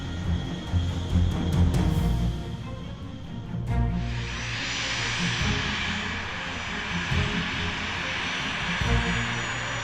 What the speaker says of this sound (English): fitted with two General Electric TF-34 GE 100 turbofan engines